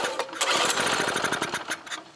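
A Honda EM650 portable generator's small engine sputters and cranks while starting after sitting unused for 21 years, giving a rapid, uneven rattling chatter of pulses that is close and fairly loud, with no talk.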